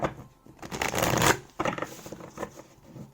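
Tarot cards are shuffled and cut by hand at close range, with riffling bursts of papery flutter and a few softer slaps and taps between them, heard alone without speech.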